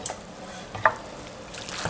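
A spoon stirs beaten eggs and half and half into a canned corned beef casserole, giving soft wet scraping and a light clink, quiet and brief.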